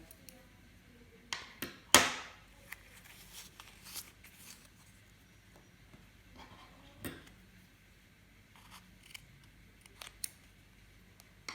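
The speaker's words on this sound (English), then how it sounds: "to make it easier, just carefully snip to the centre" Scissors snip through cardboard circles to free a handmade yarn pom-pom, giving several sharp, close cuts clustered near the start and scattered clicks later, with no talk.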